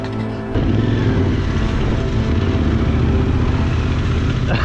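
Yamaha Tenere 700 motorcycle riding through deep grass off-road, engine note rising as it pulls away and droning steadily up close, with a rough, brushing texture underneath.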